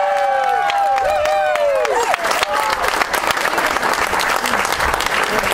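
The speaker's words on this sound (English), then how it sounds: "Big round of applause for Montana's Tara Green." Steady crowd applause greets golf medalist Tara Green of Montana after her final round, with whoops and whistles rising over the clapping early on before it settles into a dense, even roar.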